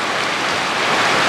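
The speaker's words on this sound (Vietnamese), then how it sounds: "Cái trận mưa này rất là to luôn, ngập hết xung quanh nhà mình." Heavy nighttime rain pours down while floodwater surrounds a house, a dense, loud, continuous rushing hiss with no voices.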